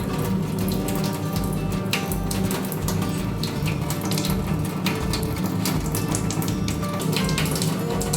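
A Kangen water filter runs water out in a steady, continuous splashing stream, close and even in level throughout, with no talk.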